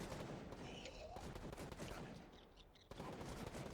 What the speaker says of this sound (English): It's just people out in the open firing at one another.